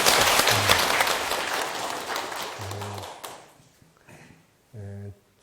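An audience at a Buddhist dharma talk breaks into brisk hand clapping that rises loud at once and then tapers off over about three seconds, followed by a brief lull and then someone speaking in short bursts.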